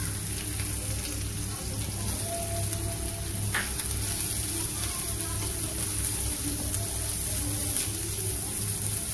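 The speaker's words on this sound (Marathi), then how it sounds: "थोडी मोहरी टाकते आणि थोडं जिरं टाकते त्याच्यामध्ये। कांदा टाकत आहे त्याच्यामध्ये।" Onion frying in oil with mustard seeds and cumin, a steady close sizzle and crackle running unbroken and fairly loud throughout, with no talk over it.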